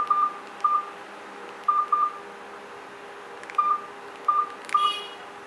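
Keypad tones from a Nokia 225 phone: seven short, clean beeps dialed in an uneven rhythm, some in quick pairs, heard close and alone over a faint background hiss.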